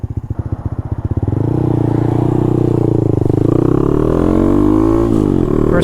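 A Honda Monkey motorcycle engine idles with a loping putter, then revs up into a steady drone whose pitch rises and shifts as the rider works through the gears, loud and close, with a brief clunk near the end.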